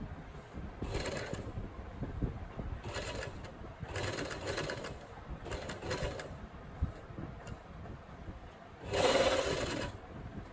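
Sewing machine stitching the hem of a kurti, running in several short bursts of a second or so each, separated by brief pauses, then a final louder burst near the end.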